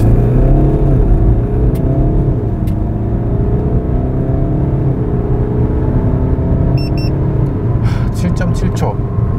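A 2016 BMW 320d F30 facelift with a 2.0L diesel engine launches from a standstill and accelerates hard, its loud engine note climbing steadily through the gears for several seconds, heard from inside the cabin with a brief voice at the end.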